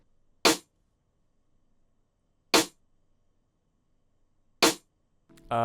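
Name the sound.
snare drum pattern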